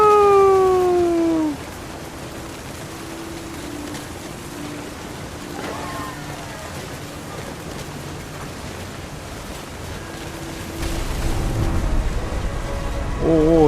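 Storm in the video game What Remains of Edith Finch, with steady rain and a low rumble beneath a sung melody, building to a louder roaring surge near the end.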